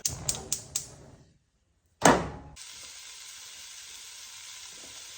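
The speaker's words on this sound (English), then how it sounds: "Cook our sausage for about 6 to 7 minutes until it's brown." Sausage browns in a hot pan for a Zuppa Toscana soup, opening with a few sharp clicks, then a loud burst as it hits the pan before settling into a steady, even sizzle.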